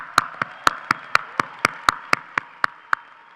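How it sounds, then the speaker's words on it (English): Slow, evenly spaced handclaps, about a dozen sharp claps ring out one after another at a commencement ceremony for honors graduates, close and distinct rather than a full crowd. "Please join me in a round of applause for these graduates."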